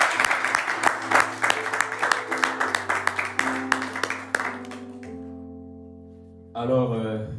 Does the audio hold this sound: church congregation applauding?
yes